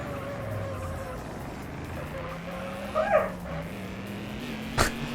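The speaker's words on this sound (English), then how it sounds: "That was a dog." A dog barks twice, short and fairly close, over the constant engine hum of a car racing game.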